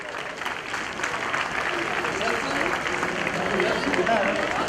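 Audience applause at a student award ceremony in a community hall: steady, dense clapping from a crowd throughout, with voices mixed underneath.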